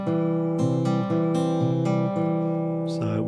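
Fingerstyle guitar picks a two-bar pattern that combines two earlier patterns, steady and close, with ringing plucked notes and no talk.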